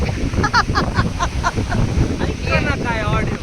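Sea waves wash in at Chithrapur beach near Mangalore, mostly buried under loud, gusting wind buffeting the microphone, while people, including children, talk nearby throughout.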